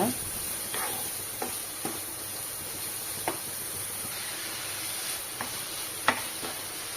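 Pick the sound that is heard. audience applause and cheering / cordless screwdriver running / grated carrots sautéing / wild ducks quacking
grated carrots sautéing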